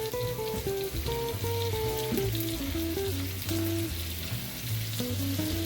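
Unsalted butter sizzles and crackles in hot oil in a pan with an Alaskan salmon steak, a steady close frying hiss. Music plays over it, with no talk.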